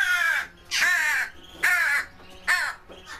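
Young jackdaws, magpies and crows being hand-reared together scream for food, giving four loud, harsh caws in quick succession close by, with no talking.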